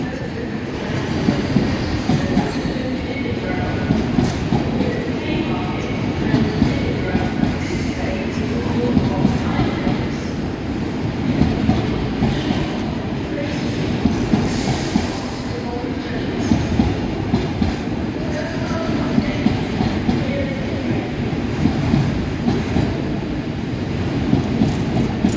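An intermodal freight train from Daventry to Mossend rolls steadily past at Carlisle, with continuous loud rumbling and rhythmic wheel clatter throughout, and a brief high squeal midway.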